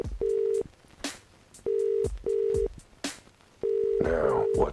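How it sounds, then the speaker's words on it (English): A telephone in a detective video game plays a steady tone in repeated half-second beeps with gaps, clear and close, and a voice starts speaking over the last beep. "There's a dial tone."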